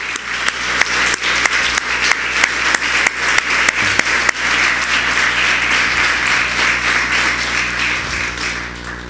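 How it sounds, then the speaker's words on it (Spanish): A church congregation claps in sustained, rhythmic unison applause, loud and close, a steady beat of hands running throughout before blending into a denser wash of clapping. "Dele al Señor su mejor ofrenda de palmas"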